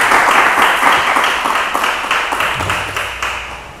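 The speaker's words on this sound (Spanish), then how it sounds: "Vamos a dar un fuerte aplauso al Señor Jesucristo" A church congregation claps for Jesus Christ, dense steady applause from many hands that starts loud and slowly fades over several seconds, with no voices on top.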